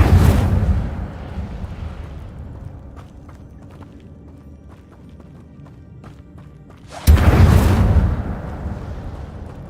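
A fire spell cast in a Hogwarts video game lands as a loud whooshing burst at the start, fades into a low rumble, then erupts again with a second strong burst near the end; no one talks.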